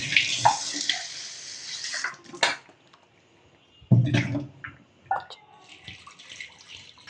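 Water poured over about 20 grams of tamarind to soak it: a close splashing pour for about two seconds, then scattered clinks and knocks of a vessel with short bursts of water.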